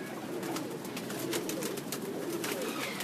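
Teddy pigeons cooing on a home rooftop, a steady low murmur of coos with occasional wing or foot rustles close by, continuous through the whole stretch without any voices.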